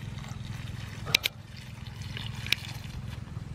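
Water sprinkled over straw mushroom growing beds, a soft steady trickle and patter running throughout, with a couple of sharp knocks partway through.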